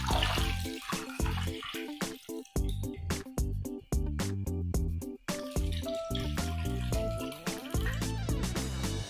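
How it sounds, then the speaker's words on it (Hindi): Water from a tap splashes and trickles into a bowl of washed dosa ingredients soaking for batter, a close, continuous pour with uneven gurgles and brief pauses. "अब हम इसमें पानी डाल लेते हैं।"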